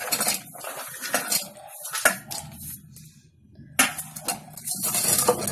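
Fried shakkarpare are stirred with sugar syrup in a bowl, producing close, irregular clinks and scrapes of a utensil against the dish, with a brief quiet pause midway.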